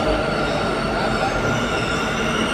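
A Rajdhani metro train rolls past at close range as a dense, continuous roar and rumble with steady wheel noise and no break for the whole stretch.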